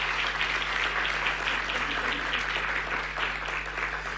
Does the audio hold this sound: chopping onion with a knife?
no